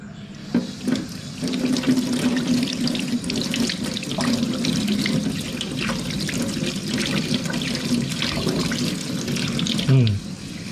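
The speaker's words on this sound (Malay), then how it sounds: "Lebih bersih kalau kita cuci." Mud crabs washed under a running kitchen tap, with water gushing steadily into a sink for about ten seconds, splashing and shifting as the crabs are handled, before the flow cuts off near the end.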